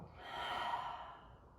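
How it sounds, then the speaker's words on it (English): One long, soft breath, heard close and quiet, swells and then fades away, like a slow deep inhale let out during a calm meditation practice. "Take a deep breath in and let it go."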